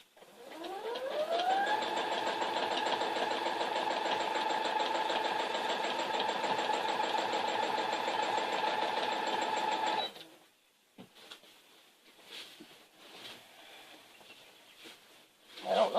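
Sewing machine stitching steadily during free motion quilting, a loud continuous whir that spins up and runs for about ten seconds before stopping, followed by quieter handling sounds.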